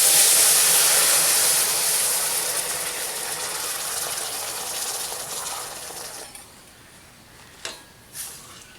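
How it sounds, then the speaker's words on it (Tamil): Milk is poured into roasted semolina in a pan for rava payasam, making a loud, close gushing splash that fades gradually over several seconds, then stops, followed by a couple of brief clinks. "இப்போ நம்ம இதிலே பாலை ஊற்றிக்கலாம்"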